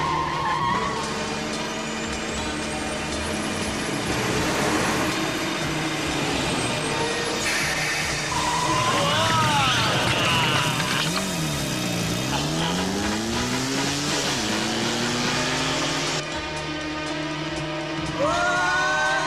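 A car in a 1989 Troma action-comedy film is driven hard, tires squealing and skidding with sweeping engine pitch changes, loud and continuous, layered with film music and brief voices.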